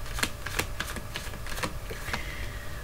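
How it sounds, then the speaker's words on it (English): Tarot cards being shuffled during a reading give a run of crisp, rapid riffling clicks and soft flutters close to the microphone, with no voice. "I'm just going to shuffle a couple more times."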